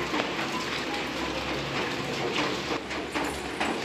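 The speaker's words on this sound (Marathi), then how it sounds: "बाहेर पाऊस चालू आहे" Steady rain falling outdoors, a continuous soft patter and hiss that holds at an even level throughout with no voices.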